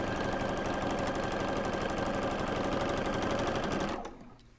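A sewing machine stitches quilt fabric for Santa hat quilt blocks in a fast, steady mechanical rattle, loud and close, running for about four seconds before stopping abruptly.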